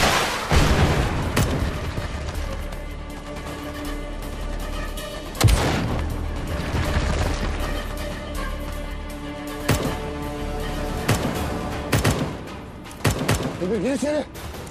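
A Turkish TV war drama scene: a rocket explosion and gunfire break out in heavy booms and rapid bursts of shots, loud and repeated across the scene, with shouted voices between the blasts.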